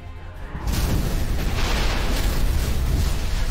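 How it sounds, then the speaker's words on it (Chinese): Two punches clash in a fight as a dramatic sound effect, a sudden heavy boom that swells into a sustained, loud rumbling impact. "又是两拳相交"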